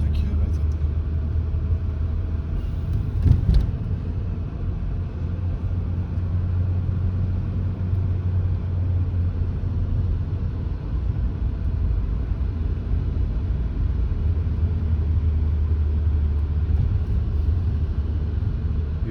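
A car travels along small Italian roads, its engine and tyres making a steady low rumble from inside the cabin for a long stretch, with a brief knock early on and muffled talk now and then.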